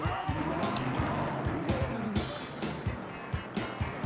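A school bus engine rumbles steadily with rhythmic thumps and occasional tire noise, the mechanical drone of the bus driving along in the video game Cruis'n USA.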